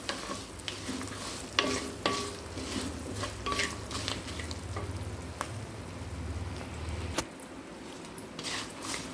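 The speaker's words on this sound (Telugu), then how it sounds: "నువ్వులు కూడా టపటపా అంటున్నాయి" Sesame and cumin seeds crackle and sizzle in hot oil in a pan, a close, steady frying hiss dotted with sharp pops and occasional stirring scrapes, for a chow chow chutney.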